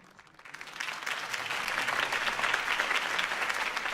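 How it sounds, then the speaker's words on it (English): Crowd applause following a campaign speech in Batman: The Telltale Series, starting lighter and swelling into sustained, dense clapping that holds steady and loud for several seconds. "If only Mr. Wayne, my campaign's largest backer, could have heard that applause"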